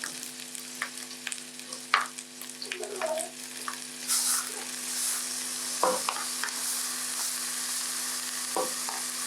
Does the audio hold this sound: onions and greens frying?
yes